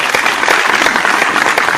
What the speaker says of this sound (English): That's a round of applause for all of us.